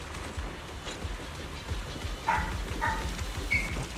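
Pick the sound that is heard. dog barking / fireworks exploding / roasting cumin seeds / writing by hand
dog barking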